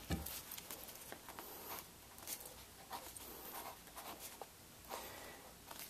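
Pencil or pen scratching out figures on paper at a woodworking bench, a steady soft patter of close strokes with brief pauses, alone without talk.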